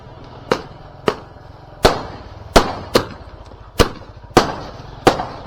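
Diwali firecrackers burst one after another, eight or nine sharp loud bangs spaced roughly every half to one second, each cracking out with a short fading tail over a low background rumble.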